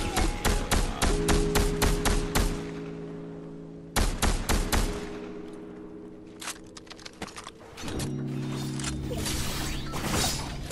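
Rapid bursts of gunfire from the video game Fortnite, sharp repeated shots in clusters with short pauses between volleys, a steady mechanical hum of game sound running underneath.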